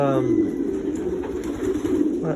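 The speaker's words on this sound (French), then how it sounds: "Lui, celui qui roucoule là, il a gagné 2 fois premier groupement l'année dernière." A male Meunier racing pigeon, a marathon-distance bird, coos in low, rolling tones nearby, with a faint high steady hum behind it and someone talking at points.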